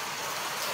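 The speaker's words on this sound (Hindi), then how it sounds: "देखो एक बार आप बाहर देखो कितनी तेज बारिश हो रही है" Heavy rain pours down outside as a dense, even hiss that stays constant through the whole short stretch, with no voices.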